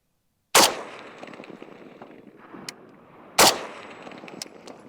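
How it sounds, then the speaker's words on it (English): Two sharp, loud rifle shots from a Russian Dragunov fired at a steel target 100 yards away, spaced about three seconds apart, each followed by a short decaying echo and a faint distant ping. "so we're just gonna shoot a couple rounds"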